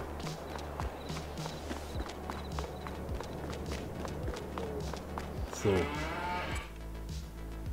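Cows in the Farming Simulator 22 game moo repeatedly over a steady run of clicking footsteps, with a louder, longer bellow near the end standing out against the farm ambience.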